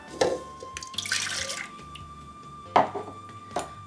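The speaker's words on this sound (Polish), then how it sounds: "Do pojemnika wlewam pół szklanki mleka." Milk is poured into a kitchen container while making corn dog batter: a soft gurgling pour in the middle, framed by a few sharp clinks and taps of the container, with a faint steady hum behind.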